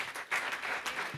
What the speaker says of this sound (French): On applaudit Valérie Caldellari.